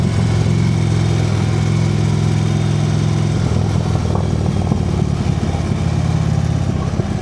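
A motorcycle cruising along a city boulevard on a hot day: a loud, steady mid-pitched engine drone with slight changes in revs, heavy wind rumble, and no speech.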